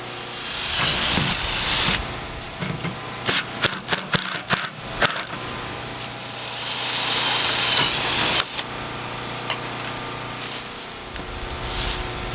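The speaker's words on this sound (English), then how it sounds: "drill the center pilot hole there, and put a screw on there, and then I'll drill all the rest" A power drill bores pilot holes for screws through steel roofing panels, with a sustained whir, a cluster of sharp ticking bursts in the middle, then more steady drilling toward the end, loud and close.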